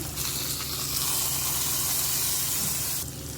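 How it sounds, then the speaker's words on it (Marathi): A hot tempering of chillies, curry leaves and asafoetida in oil is poured onto cooked dal for hotel-style sambar. It gives a loud, hissing sizzle that holds steady for about three seconds and then fades. "आता ही फोडणी आपल्याला डाळीवर ओतायची आहे"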